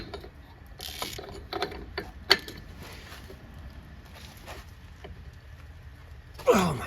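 A special four-tooth socket ratchets against the front wheel bearing nut on a 1990-1996 Ford, giving a series of faint, irregular metallic clicks up close, with a louder burst near the end.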